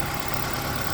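A car with a 1.6 engine conversion, new extractors and a complete new exhaust system, idling with the bonnet open, heard up close as a steady, even hum with no speech over it.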